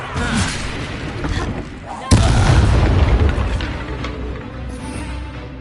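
Confringo fire spells explode in Hogwarts Legacy combat, with one heavy boom midway through a dense rumble of blasts and effects, loud and close.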